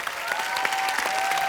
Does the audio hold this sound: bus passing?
no